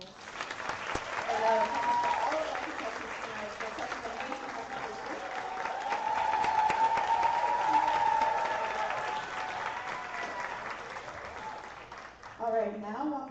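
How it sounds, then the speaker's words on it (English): Audience applause at a youth pitch competition, sustained clapping from a crowd swelling and easing over several seconds, with a brief louder burst near the end. "Can we give her another round of applause?"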